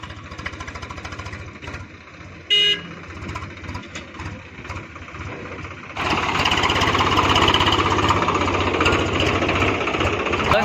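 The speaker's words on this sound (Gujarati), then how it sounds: "દોસ્તો આપણે ટ્રેક્ટર આવી ગયું છે જો" A farm tractor loaded with centering (shuttering) material arrives in a Saurashtra field. A steady diesel rumble with rapid knocking thuds grows clearly louder and nearer about halfway through, and a brief sharp clank comes early on.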